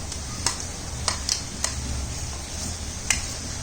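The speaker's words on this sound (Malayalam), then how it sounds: "അതിനുശേഷം നമുക്കിത് ഇളക്കി കൊടുക്കാം." Ground masala paste frying in oil for Kerala-style pork vindaloo on a wood-fired stove, a soft steady sizzle with scattered sharp ticks and clicks of stirring, fairly close and without talk.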